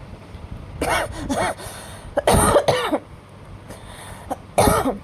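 Several harsh coughs come in uneven bursts, close by, with short quiet gaps between them and a throat clearing mixed in.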